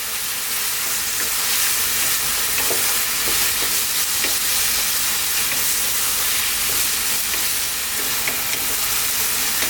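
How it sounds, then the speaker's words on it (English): Onions with garlic ginger paste sizzle steadily in a pan over high heat while being stirred for a beef eggplant curry, a constant bright frying hiss with scattered clicks of the spoon throughout. "And then on this high heat, stirring away for about 3 minutes."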